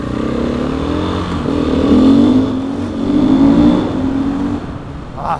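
Motorcycle engine revving up as the rider twists the throttle, the pitch climbing in two loud surges before easing off, heard close with no talk.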